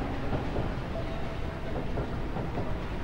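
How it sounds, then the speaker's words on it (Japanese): A train in a video game pulls into a station, a steady rumbling roll with faint rail clatter and a brief squeal, continuous and moderately loud with no voices. "そろそろ電車が来る時間かしら。"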